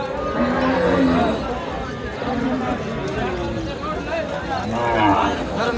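Cows and calves moo at an open-air cattle market in Chapainawabganj, with several drawn-out low calls rising through a crowd. People talk loudly nearby throughout.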